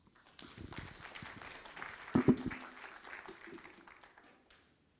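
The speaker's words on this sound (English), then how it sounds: "Could we give better claps to the Vice Chancellor for that very powerful presentation?" Crowd applause at a multifunctional youth forum for the Vice Chancellor after a presentation; moderate clapping swells quickly, peaks briefly with a few louder hits, then fades out over several seconds.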